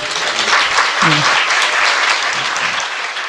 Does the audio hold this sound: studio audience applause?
yes